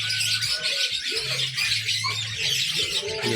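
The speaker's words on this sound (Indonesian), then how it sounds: "burung." Songbirds chirp and tweet continuously at a busy bird market, a dense layer of high calls over a low steady hum, with occasional squawks.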